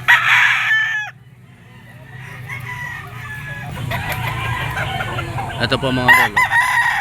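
A yellow-legged bull stag rooster, offered for sale at a Filipino poultry market, crows loudly and close at the start, then further crowing and clucking follow amid market chatter and someone speaking.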